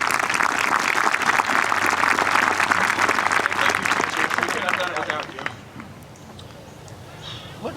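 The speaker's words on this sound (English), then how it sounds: "Let's give another round of applause to the teachers." A high school graduation audience applauds the teachers, dense sustained clapping and cheering that holds loud for about five seconds, then thins and fades into quieter crowd noise.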